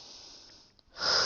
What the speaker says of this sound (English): Exhale the air out.